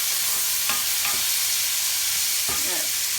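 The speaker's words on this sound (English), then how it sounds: "let me just give this a little stir" Bacon and red cabbage sizzle steadily in a hot pan while a utensil scrapes through them in a few soft stirring strokes, close and continuous, with no voices.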